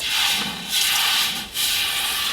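A steady, bright hiss of steam as a hot object sizzles in water, swelling and dipping briefly twice, loud and close with no voices.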